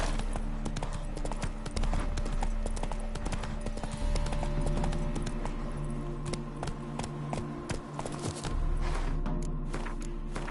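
Roach, a horse in the video game Witcher 3, clip-clops with steady, close hoofbeats that run for the full stretch over a constant low ambient hum, with no one speaking.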